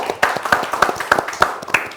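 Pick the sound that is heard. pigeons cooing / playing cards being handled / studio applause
studio applause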